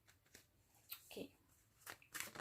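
Tarot cards being shuffled by hand in short bursts of riffling and sliding, with soft pauses between them and a louder flurry near the end, quiet and close.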